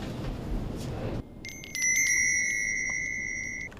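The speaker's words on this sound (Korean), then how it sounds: "이게 계속 이렇게 종이 울리고 그렇죠" A small bell rung inside an office to announce food, one bright ringing strike that sustains and slowly fades, following a stretch of muffled room noise.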